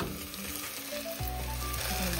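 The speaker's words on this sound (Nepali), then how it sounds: "म चाहिँ अब मासु राखेर सँगै भुट्छु है" Chicken pieces frying with browned onions in a hot pan, a steady loud sizzle that thickens and rises as the meat goes in, with occasional stirring scrapes.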